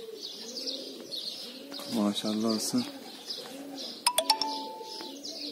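Pigeons coo softly and repeatedly in the background while a person speaks briefly nearby, with a few sharp chirps breaking in near the end.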